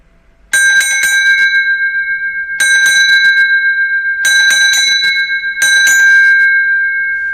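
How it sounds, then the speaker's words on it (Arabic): A bright metallic horse-carriage bell is struck four times in succession, each ring sustaining and shimmering with a wavering pulse before the next strike. "الجرس ده برضك مميز برضك يا رجاله"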